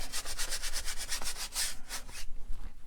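Dry brush scrubbing over dried paint on a landscape painting's background sky, a close, steady back-and-forth rasp of bristles in quick rhythmic strokes that stops near the end.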